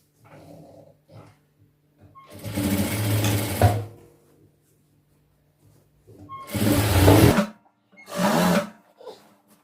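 A sewing machine stitches a half-inch pant seam in two longer runs and one short burst, separated by pauses with faint handling sounds, close and loud.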